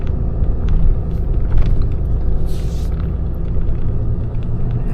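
A tow truck carrying a Chevy Silverado with a no-start problem rolls along the road, producing a steady loud low engine and road rumble up close, with a brief hiss in the middle and no voices.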